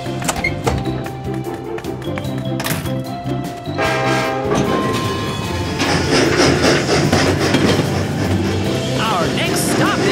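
A train rumbles along with rhythmic clatter, with a voice speaking early on and the noise growing busier and louder later.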